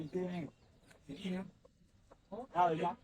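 A crossbred rooster at a bird market gives three short bursts of clucking calls, close and clear, separated by brief pauses.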